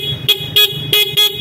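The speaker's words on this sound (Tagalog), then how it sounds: "Ayan, malakas po ang busina niya." Motorcycle horn honking four short loud blasts in quick succession, close by outdoors, with a faint engine hum underneath.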